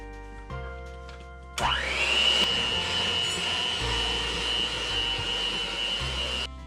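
An electric mixer beating sugar cookie dough after brown sugar is added: the motor kicks on abruptly with a rising whine, then holds a loud, steady close whirr for several seconds before stopping.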